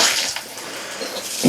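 Hot and cold water runs from a shower faucet in a Class A gas Winnebago motorhome, a close, steady hiss of flowing water with a few small splashes and clatters.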